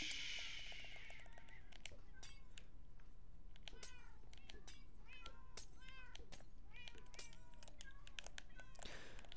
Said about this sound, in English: There's so many cats. Oh my god. This is her little cat cafe.